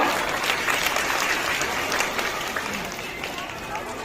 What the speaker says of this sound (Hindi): जोरदार एक और ताली बजा दें सभी लोग